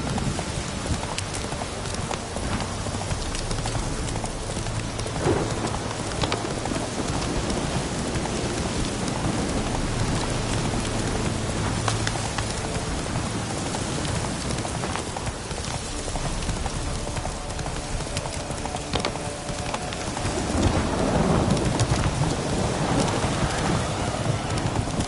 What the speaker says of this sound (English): Downpour's a bastard in it.